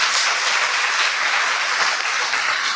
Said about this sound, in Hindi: तो फिर ताली बजाइए